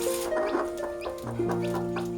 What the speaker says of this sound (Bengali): আমার মুরগির বাচ্চা ফুটছে